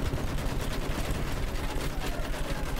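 A dense, unbroken rattle of machine-gun fire in the video game Battlefield 1 runs for a few seconds, steady and fairly loud.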